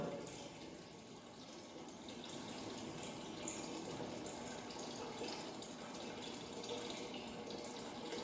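Water runs continuously from a tank as its level drops with the pump switched off, a steady rushing, splashing sound, moderately loud and unchanging throughout, no voices.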